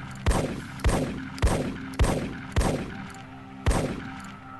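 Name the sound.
shotgun firing pellets in the video game ARMA 3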